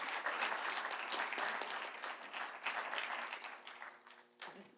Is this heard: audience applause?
yes